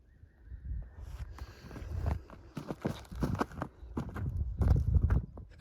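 Horse hooves clip-clop in an uneven rhythm on a hard surface, fairly close, with light wind noise in the background.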